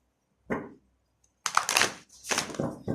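Tarot cards shuffled in short riffling bursts: one brief flutter, a pause, then two longer crackling runs close by, with no voices.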